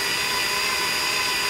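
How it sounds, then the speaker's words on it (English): Power drill spinning a compressor armature to resurface it, a steady, loud whirring drone held evenly throughout the short stretch. "we're actually just going to turn it with the drill"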